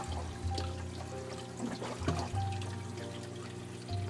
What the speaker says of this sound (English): you can see the water is running from the reservoir on the other side of the wall there